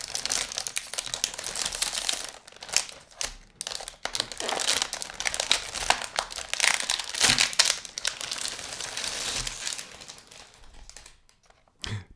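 Crinkling plastic wrapper of a Griesson biscuit pack being cut open, with dense bursts of crackle and rustle continuing throughout, close and fairly loud, ending in a brief quiet.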